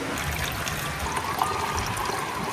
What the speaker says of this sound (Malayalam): നമ്മൾ പഞ്ചസാര ലായനി ഇതിലേക്ക് ഒഴിക്കുക.